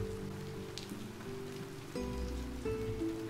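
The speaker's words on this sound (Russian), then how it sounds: "Дождь идет на улице." Rain falls outside in the farming and tavern video game Travellers Rest, a soft continuous patter heard alongside quiet tonal game music.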